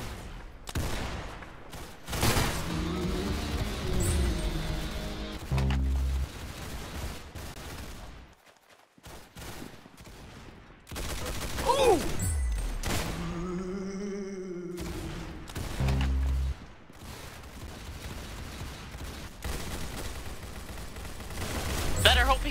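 Gunfire and explosions fill a shooter video game session. Bursts of rapid automatic fire, booming blasts and thuds come and go over about twenty seconds, with a player's voice talking now and then over the action.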